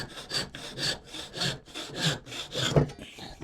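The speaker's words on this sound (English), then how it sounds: "using that dowel cutting gizmo doodad" Wood being cut with a hand-held dowel cutting tool, a rhythmic rasping stroke repeated about eight times in quick succession, close and fairly quiet.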